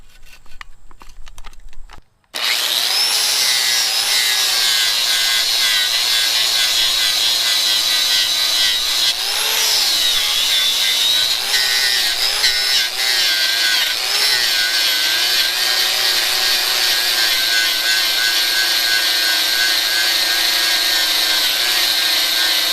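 A handheld grinder powered by an Itehil IT500 portable power station whines steadily and loudly for about twenty seconds after a short quiet lead-in, its pitch dipping briefly midway as it bites into the work.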